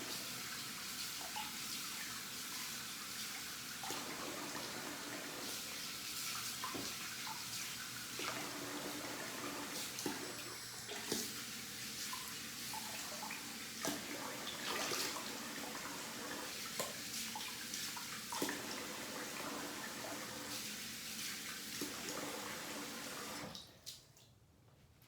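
A tap runs steadily into a sink while a face is rinsed after a wet shave, a continuous close hiss and splash broken by brief splashy changes, cutting off at the end.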